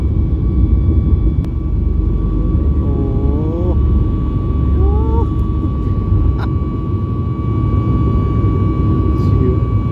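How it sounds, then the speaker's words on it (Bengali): Steady broadband roar of a passenger airplane's engines building as it runs down the runway for takeoff on a flight to the Andaman Islands, heard from a window seat in the cabin, a constant loud drone with brief tonal chimes and faint voices. "রানওয়েতে কিছুক্ষণ ওয়েট করলো তারপরেই রান নেওয়া শুরু করে দিল"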